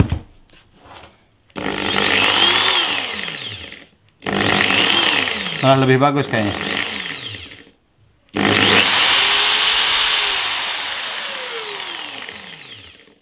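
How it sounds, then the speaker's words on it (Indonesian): A Doliz BA670 impact drill in hammer mode runs loudly in three long bursts, revving up and winding down, with a brief spoken remark between bursts. "coba kita ke settingan impactnya"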